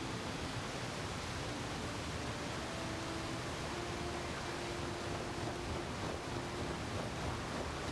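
A waterfall in the video game Where Winds Meet gives a faint, steady broadband rush of water. It holds even throughout, with faint tonal hints layered underneath and no one speaking.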